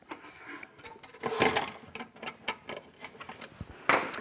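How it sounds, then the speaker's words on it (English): Phillips screws inside a Juno recessed light housing are loosened, giving light metallic scraping, clicks and ticks from the tool in short irregular bursts, close and fairly quiet. "If I loosen those screws just a little bit"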